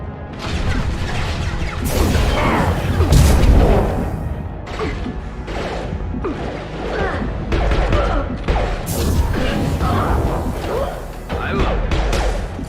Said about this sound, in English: Firing an impact shot!